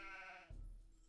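A faint sheep bleats once in the video game Age of Empires 2, a wavering nasal cry, then cuts off into a soft low thump with quiet background hum.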